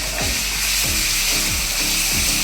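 Garlic paste sizzles in a pan with onions that are already fried, a loud, steady close crackle with rhythmic scraping stirs about every half second.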